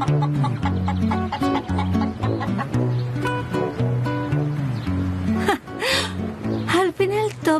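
A rooster tied on a balcony clucks and crows in short, repeated bursts, loud and close, with people talking over it.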